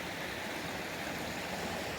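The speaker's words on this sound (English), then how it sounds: "the sound of the river behind me" A mountain river in Oregon flows in a steady, even rush of water, a soft continuous wash with no breaks, voices or other sounds.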